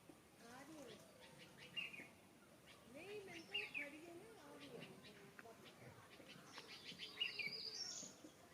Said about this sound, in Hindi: आप महसूस कीजिए प्रकृति को, चिड़ियों की चहचहाट को